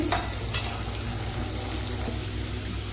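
Ingredients for tamarind pulihora, such as peanuts and cashews, fry in oil in a pan with a steady, even sizzle that holds close and constant for a few seconds, with no talking.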